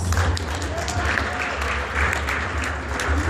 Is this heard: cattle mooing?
no